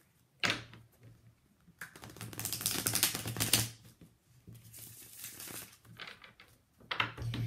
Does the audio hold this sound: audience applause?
no